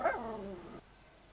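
A single dog gives one short, sharp bark that falls away quickly, close by, followed by quiet.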